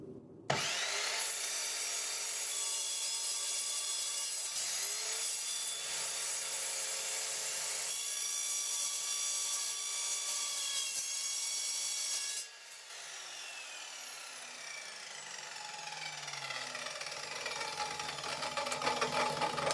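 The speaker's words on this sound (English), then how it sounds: "Typically you wouldn't want to ever cut something like this on a regular mitre saw. So let's stick it down and give it a go." An Evolution R210SMS mitre saw cuts through timber with screws in it, giving a loud continuous high-pitched whine and grinding strain that shifts partway through into a lower, labouring tone as the blade struggles.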